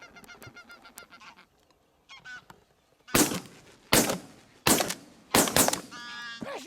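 A skein of geese honks overhead at an inland shoot, with scattered calls early on, then four loud sharp gunshot-like bursts in quick succession, more honking following the last.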